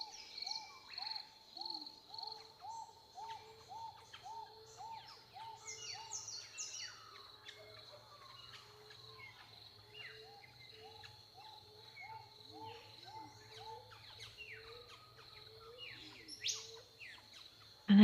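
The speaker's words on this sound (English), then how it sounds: "the birdsong begins for the last time in this session" Birds sing and chirp in repeated clear phrases over a faint low hum, several calls overlapping at moderate distance in an otherwise quiet setting.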